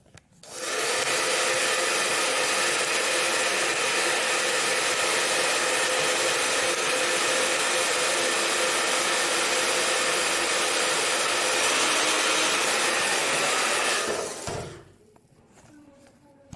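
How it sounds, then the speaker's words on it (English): A hair dryer blows in a steady, loud whoosh while drying wet mink eyelashes, running continuously for about fourteen seconds before switching off. "so we can dry it with hair dryer"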